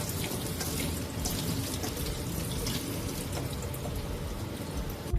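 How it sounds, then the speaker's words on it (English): Black beans are rinsed under a running kitchen tap, giving a continuous splashing flow of water that holds steady throughout, with a brief louder burst at the very end. "I like to rinse the beans until there's no more bubbles."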